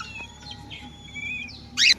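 Pet cockatiels give thin, sustained whistling calls up close in a quiet indoor space, ending in a brief louder squawk, with no talking.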